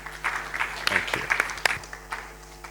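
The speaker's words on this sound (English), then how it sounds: "let's give him a nice round of applause" A short burst of audience applause at a University of the South Pacific event, scattered claps rising and fading over a few seconds in a room, fairly soft.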